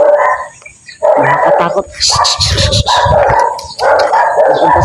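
A dog barks repeatedly and loudly at close range in several bursts, with a person's voice mixed in.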